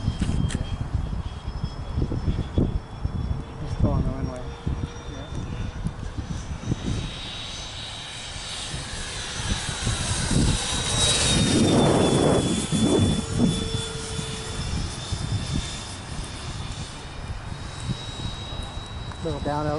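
A Freewing F18 RC model jet whines past at a flying field, its turbine-like roar swelling and fading as it crosses, while people chat nearby throughout.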